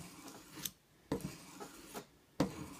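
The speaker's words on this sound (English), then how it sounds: "Since I got the fine stone, it's going to take a little bit longer for me to get the edges out on this knife" A knife blade is drawn across a fine sharpening stone in a few separate, fairly faint rasping strokes with short pauses between them.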